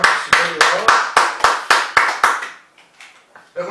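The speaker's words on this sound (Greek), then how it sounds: "Ένα χειροκρότημα στη σημερινή εδώ." Rhythmic group clapping during a Greek music evening of syrtos dances with lyra, about nine sharp, evenly spaced claps in a steady beat, then trailing off into a few faint taps and a final clap.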